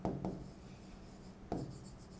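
A pen scratches across paper as a physics mirror formula is written out, with quick scraping strokes, a short pause and then another burst of writing, close and clear with no talk.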